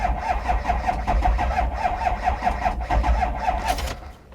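Diesel bus engine cranking without catching, a rapid even starter chug repeating for several seconds before cutting off, close and loud.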